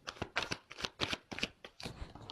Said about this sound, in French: je vais prendre des petites cartes en plus